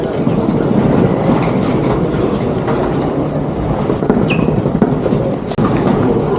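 A passenger train in St Petersburg, Russia, runs on rails, giving a loud steady rumble and rattle of wheels with a brief high squeal near the end.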